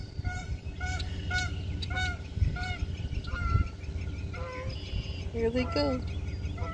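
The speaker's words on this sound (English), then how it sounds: "Well, the swans are there. Yep, the ducks are out." Swans and ducks by the water honk in scattered, fairly faint calls over a low outdoor background, with a person speaking briefly.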